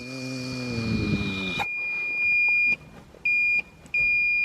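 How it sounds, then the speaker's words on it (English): Warning beeps from a Mitsubishi Evo's inverted clutch switch sound when the clutch pedal is pressed: a steady high tone that cuts on and off three times, following a low rumbling engine drone that stops abruptly. "it actually makes a sound when the clutch is depressed"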